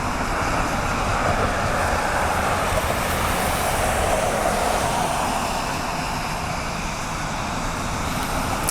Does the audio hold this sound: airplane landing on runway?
yes